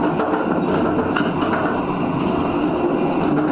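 The KA Parahyangan executive train runs just after leaving Padalarang station, heard from on board as a steady, loud rumble with rhythmic clicks from the wheels over the rail joints.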